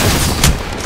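Rapid bursts of gunfire in a shooter video game fill the short moment, dense and loud, with a heavier boom-like hit midway.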